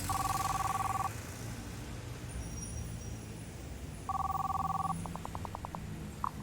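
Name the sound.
telephone ringing during a call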